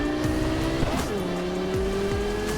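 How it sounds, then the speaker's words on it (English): Caliburn car driving in the video game Cyberpunk, engine revving with shifting pitch and tires squealing as it corners, close and continuous throughout. "The Caliburn is probably one of the best cars in Cyberpunk."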